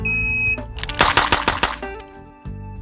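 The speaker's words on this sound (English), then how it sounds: "record the sound of gunshots" A rapid burst of about six sharp, loud gunshots in quick succession from timed competition shooting, with a steady tonal hum before and after.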